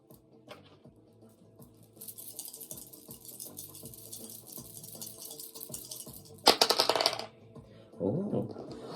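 Dice clatter and rattle on a surface in a few short bursts over a quiet hum.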